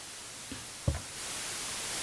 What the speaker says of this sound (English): Let me give you an example of a mono pink noise.